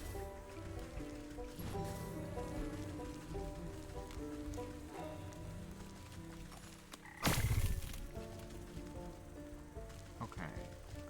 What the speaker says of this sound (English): Oh, frogs. Many frogs.